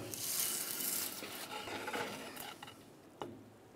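Dodge Ram 2500 front axle shaft sliding through the steering knuckle, a close, continuous scraping rasp of metal on metal that fades toward the end with a brief knock.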